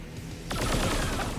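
Heavy gunfire in the video game XCOM 2 bursts in after a quiet half second, a loud, dense barrage of overlapping shots and booms that continues to the end.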